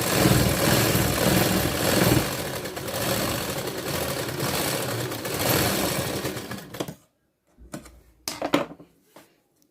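A sewing machine stitches a strip on a princess-cut blouse, running in a steady, close mechanical whir for about seven seconds before stopping into a few short start-stop bursts.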